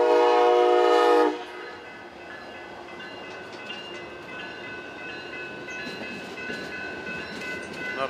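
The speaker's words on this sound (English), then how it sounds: "long train." An Amtrak train in Kalamazoo, Michigan opens with a loud, sustained horn blast, then the horn cuts off and the steady rumble and rail clatter of the passing cars carry on at a moderate level; no talking.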